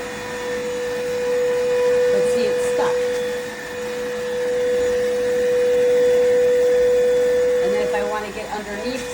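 An iwoly cordless cyclone vacuum cleaner runs close by with a loud, steady motor whine, its pitch constant while the suction roar swells and dips as the head moves, with a few knocks near the end.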